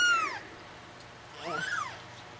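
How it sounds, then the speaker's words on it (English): A kitten being fed gives two short, high, rising-then-falling meows close by, separated by a brief quiet pause. "Feeding a kitten."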